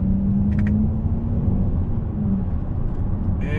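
A 2019 Ford Edge ST engine drops down a couple of gears, giving a steady, loud low rumble inside the cabin that holds for a few seconds before a brief higher whir at the end.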